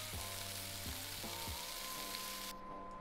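A meat patty fries in a pan in the Cooking Simulator video game, a steady loud sizzle that continues unbroken, with faint low tonal game sounds underneath.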